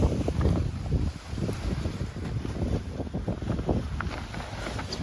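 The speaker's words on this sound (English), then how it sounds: "Epic windy launch." Strong wind buffets the microphone during an evening paragliding launch on an Alpine slope, a loud continuous roar with gusty swells and no one speaking.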